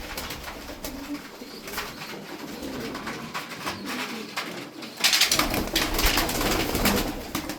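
Pigeons coo softly in a loft, murmuring repeatedly at close range, with a rustling burst partway through that could be wings.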